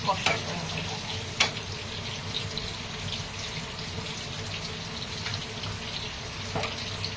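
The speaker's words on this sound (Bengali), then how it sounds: "আর একটু দিলাম 2 টেবিল স্পুন মতো কাজু পেস্টটা দিয়ে দিলাম, দিয়ে এটা একটু কষানো হোক।" Masala with cashew paste sautéing in a pan for Nargisi kofta, a steady close sizzle with occasional scraping stir clicks, no talking.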